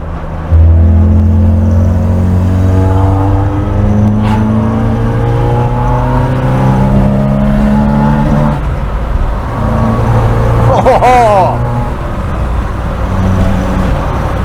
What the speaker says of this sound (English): I've left the window open for a bit more noise because the exhaust sounds so good.